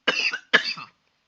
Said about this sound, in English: I apologize for my constant coughing.